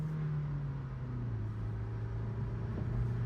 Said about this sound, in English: we're in second gear, pedal to the floor